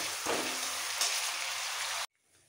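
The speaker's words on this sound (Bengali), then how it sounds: "এবার পেঁয়াজটাকে একদম ব্রাউন করে ভেজে নিতে হবে।" Sliced onions fry in hot oil for a Bengali rohu fish curry, giving a dense, steady sizzle that stays loud for about two seconds before cutting off abruptly.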